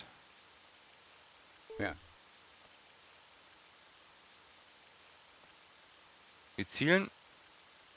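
Rain falling in the tactical game Jagged Alliance, a steady soft hiss running through the whole stretch at low level, with someone speaking briefly twice over it.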